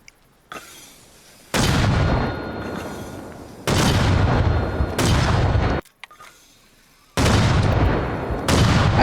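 Mortars firing automatically at a placed marker, three long loud sustained bursts of booming, rumbling fire separated by short quieter gaps, close and without talk.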